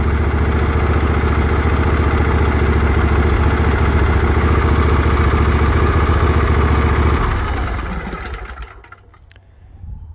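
A Ferris IS500Z zero-turn mower engine with 726 hours and new intake manifold gaskets idles steadily and loudly up close, then winds down and goes quiet near the end.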